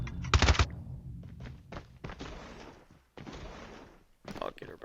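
A CBR4 weapon is reloaded in the video game Call of Duty Mobile: a loud burst of clunky mechanical thunks, then scattered softer clicks and knocks, with broader gunfire-like blasts late in the clip.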